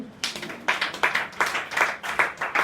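A church congregation claps in praise of the Lord, a steady run of loud, rhythmic group claps in even beats, close and filling the room with no talk over it.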